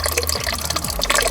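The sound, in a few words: water flushing through a car's coolant system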